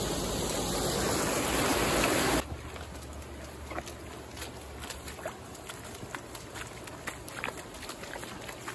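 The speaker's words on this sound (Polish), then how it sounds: "teraz już woda się nie mieści też pod tym mostkiem, także tu się przelewa górą" Rushing rainwater pours loudly over a small bridge for a couple of seconds, then cuts to a quieter flowing trickle with faint outdoor sounds.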